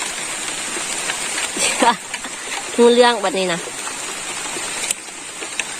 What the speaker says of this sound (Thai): ฟังเสียงฝนทุกคน